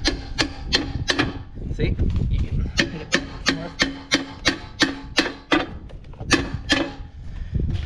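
A repaired barn manure scraper, its edges reinforced with welds, slides back and forth in a steady rhythm, each pass giving a close, loud scraping rub. Someone speaks briefly over it.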